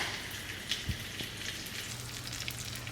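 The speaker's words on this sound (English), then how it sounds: "You see everything is just sauteing down, giving it flavor" Steak searing in a pan with garlic, rosemary and thyme, giving a steady close-up sizzle with faint pops and crackles and no talking.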